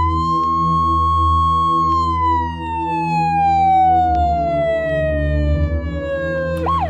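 An ambulance siren wails loudly and close, a single long tone that slowly glides downward before sharply rising again at the end, over a low rumble of traffic.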